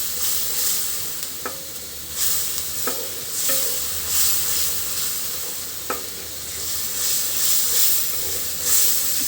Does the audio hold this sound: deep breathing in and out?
no